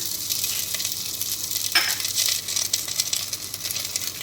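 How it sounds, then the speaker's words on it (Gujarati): A cup of cabbage sautéing in hot ghee gives a steady, hissing sizzle throughout, with one brief metallic clink partway through. "ઘી ગરમ થાય એટલે એમાં હું આ 1 કપ કોબી છે, કોબી એડ કરું છું."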